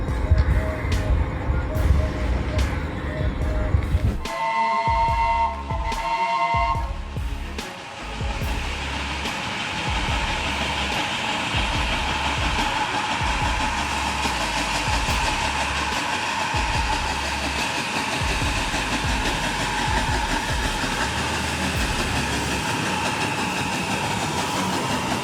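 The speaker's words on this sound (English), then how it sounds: "The camera captured the moment the WAG-9 locomotive departed." A WAG-9 electric locomotive pulls away, a steady rolling rumble with rhythmic wheel clatter building after a few sharp horn-like blasts near the start, continuous and fairly close.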